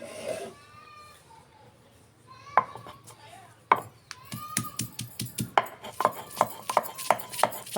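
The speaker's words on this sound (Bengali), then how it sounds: "বাটাবাটি শুরু করে দিলাম। আটাটা একটু ছেঁচে নিচ্ছি।" Small spiced potatoes pounded and ground on a stone slab (pata) with salt, giving a string of sharp, regular knocks and scraping strokes that grow louder and quicker toward the end, close by with no talk.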